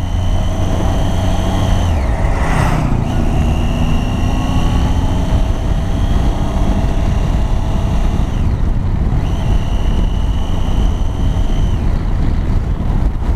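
Motorcycle engine droning steadily while riding in second gear and not upshifting, a continuous loud engine note with wind noise and brief pitch changes, no speech.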